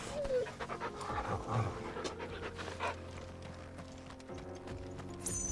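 A hound pants in quick rhythmic breaths in Final Fantasy XVI, close and moderately loud, with hoof clip-clops and other game sounds mixed in and a voice speaking briefly.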